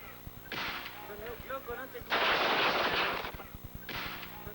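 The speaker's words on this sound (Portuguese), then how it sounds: "Policiais dispersam a multidão a tiros." Bursts of police gunfire crackle in dense, noisy volleys to disperse a crowd, with a long loud barrage in the middle and shorter bursts around it, amid crowd commotion.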